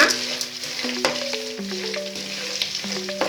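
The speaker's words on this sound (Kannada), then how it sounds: "ಈಗ 1 ಬೌಲ್ ಅಷ್ಟು ಶೇಂಗಾ, 1 ಕಪ್ಪು ಕಡ್ಲಿ ಎಲ್ಲ ಚೆನ್ನಾಗಿ ಫ್ರೈ ಮಾಡೋಣ." Peanuts and gram being dry-fried in a pan for a crispy Karnataka-style poha mixture, a loud close rattling and scraping as the nuts are tossed, with a sustained tonal hum underneath and no talk.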